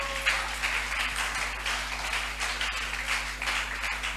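A church congregation at a Sunday thanksgiving service applauds in steady, dense clapping that continues throughout over a low hum, with no voices standing out.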